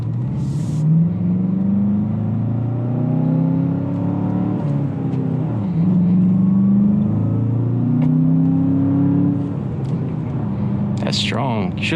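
A 2019 Volkswagen Jetta GLI's 2.4-litre four-cylinder engine accelerating, heard from inside as a steady, loud droning rumble with pitch rising and falling through the gears, with people talking over it.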